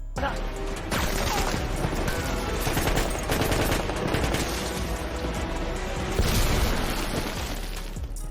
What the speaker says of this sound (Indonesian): mereka pun diserang menggunakan tembakan dan mortir